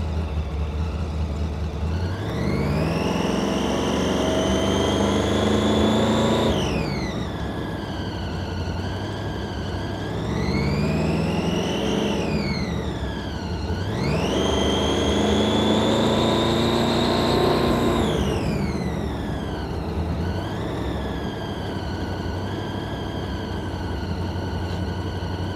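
A blue hot rod's engine runs steadily while the car drives at low speed around a Las Vegas showroom, a loud, close rumble with repeated rising and falling revs as it accelerates and eases off.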